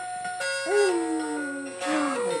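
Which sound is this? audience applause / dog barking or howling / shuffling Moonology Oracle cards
dog barking or howling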